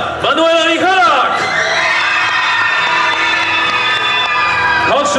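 A crowd at an outdoor stage show in a Polish seaside resort cheers, whoops and claps loudly and continuously while an announcer's amplified voice calls out over the noise.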